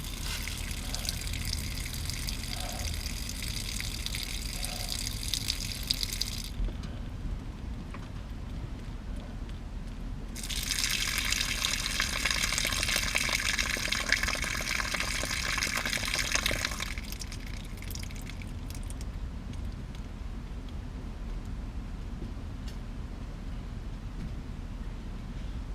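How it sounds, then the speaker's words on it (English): Water gushing out of the opened low point drains beneath an RV travel trailer while its water lines are emptied for winterizing, a steady outdoor splash in two sustained bursts with a pause between. "This is our low point drains that drain the water out of the water lines in the camper."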